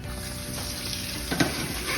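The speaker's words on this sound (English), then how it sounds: "Use hot water and just scrub remaining seeds and roots" Plastic sprout trays scrubbed clean of leftover seeds and roots under hot running water from a tap, a steady close rush of water with brief scraping and splashing accents.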